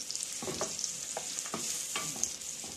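Onion is lightly sautéed in a pan with a soft sizzle and a few quiet, scattered spatula scrapes against the pan.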